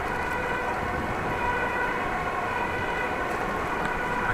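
A fire truck siren wails continuously from a distance in a residential Dutch neighbourhood, a steady, moderately loud tone under outdoor street ambience with no voices.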